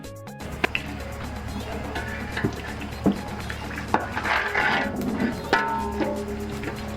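Jollof rice being stirred in a large cooking pot while cooking for a big crowd: scraping and knocking of a utensil against the pot, with irregular clanks and a background hum.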